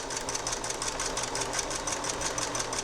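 Sewing machine running steadily while stitching a quarter-inch seam around a pillowcase perimeter, a fast, even whirring clatter held at constant loudness throughout, close and alone.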